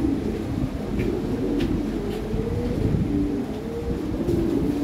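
A pair of white Lahori Sirazi pigeons cooing, a low continuous warbling coo that rises and falls at moderate volume over steady background noise.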